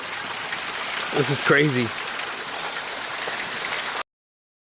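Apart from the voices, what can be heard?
Tokatee Falls waterfall gushing, Oregon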